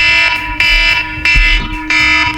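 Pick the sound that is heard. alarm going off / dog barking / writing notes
alarm going off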